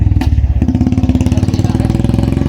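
A motorcycle engine idles loudly up close in Udaipur, Rajasthan, with a rapid, regular chugging pulse and slight clatter, steady throughout with no speech.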